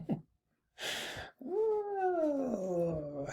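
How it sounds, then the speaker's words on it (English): A cat meows close up, with a short cry, a breathy burst, then a long drawn-out, wavering caterwaul-like meow. No talk is heard over it. "She just would not stop meowing."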